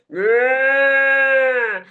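A storyteller imitates a cow's moo with one long, steady, loud voiced note lasting nearly two seconds, close to the listener and with nothing else heard.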